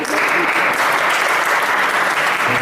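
An indoor audience at an Islamic boarding school gathering claps steadily in sustained, dense applause that fills the room from start to finish.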